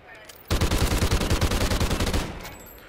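A continuous burst of automatic fire in a first-person shooter video game, loud, fast and evenly rhythmic for about two seconds before cutting off.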